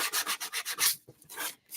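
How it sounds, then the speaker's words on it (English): Rapid back-and-forth strokes of sandpaper rub across wood to distress a spring craft piece, close and rhythmic, in about eight quick passes with a short pause partway through. "We're going to do a little sanding."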